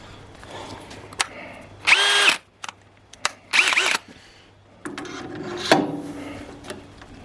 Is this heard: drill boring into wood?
yes